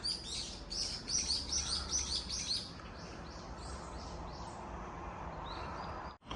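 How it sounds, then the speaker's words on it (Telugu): Birds chirp and tweet at dawn in quick repeated bursts over a soft outdoor background in Korea, busiest at first and then thinning to scattered calls. "పక్షులు సౌండ్ చేస్తుంటే ఎంత బాగుంటుందో కదా"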